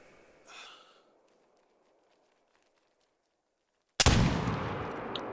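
A Curman .50 Inline muzzleloader rifle fires once in theHunter hunting game, a sudden loud close blast with a long rumbling tail, after a faint breath and near silence.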